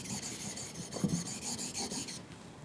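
The back of a chisel is rubbed across a sharpening stone in a carpentry setting, a faint rhythmic rasping of strokes repeating back and forth at close range, with no talk over it.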